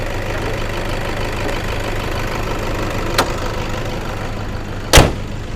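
A steady low idle from a 2011 Toyota Vigo 2.5 pickup truck engine runs throughout, with a couple of brief clicks or knocks standing out near the end.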